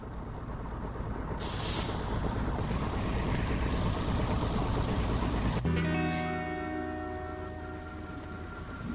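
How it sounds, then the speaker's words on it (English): Engine running inside the VR puzzle game Expect You to Die: a steady low mechanical rumble with a brighter hiss joining partway through, then a shift to humming tonal drones near the end, with no voices. "The engine is engaged and we are starting our set."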